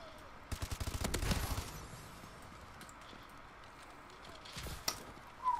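Rapid automatic gunfire from Call of Duty Advanced Warfare, a quick rattling burst of shots near the start followed by quieter game ambience and a few scattered later shots, with faint talk underneath.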